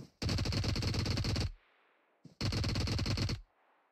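Automatic gunfire in the mobile battle game PUBG Mobile, two loud sustained bursts of rapid shots, each about a second long, separated by a brief quiet gap with faint tail noise.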